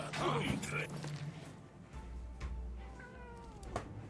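A pet cat meows indoors in a home office, several short rising calls coming and going over a low hum, with faint creaks and a person talking nearby.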